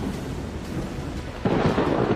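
Thunder rumbles during a heavy Mumbai downpour, steady rain hissing throughout before a louder, deep roll of thunder swells in near the end.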